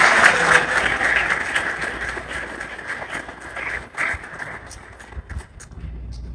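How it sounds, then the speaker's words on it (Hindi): During a church sermon, the congregation bursts into loud clapping that is strongest at first, then fades unevenly into scattered claps and light room noise. "जोरदार तालियां।"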